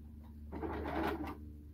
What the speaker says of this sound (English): I'm going to sew this at 5/8 of an inch